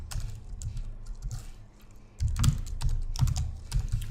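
Code being typed on a computer keyboard, close, quick uneven bursts of key clicks that pause briefly and then resume louder and denser.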